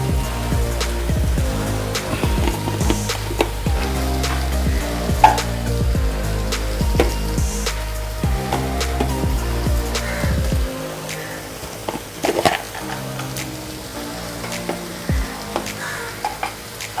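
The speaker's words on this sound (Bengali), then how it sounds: "পেঁয়াজ আদা রসুনটা ভালোভাবে ভাজা হয়ে গেছে। এবার আমি এর মধ্যে একে একে গুঁড়ো মশলাগুলো দিয়ে দিচ্ছি।" Ground spices fry in a pan with onion, ginger and garlic, giving a steady sizzle with repeated spatula scrapes and stirring clatter, loud and close throughout with no talk.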